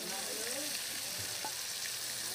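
Ground garlic, mustard and green chilli masala sizzles and fries loudly with fish in a hot pan, a constant close crackling hiss with faint stirring.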